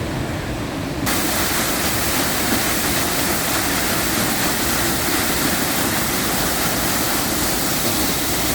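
A waterfall on Iceland's south coast roars as a dense, steady wash of falling water, loud and close, filling the scene without a break after a slightly softer opening second.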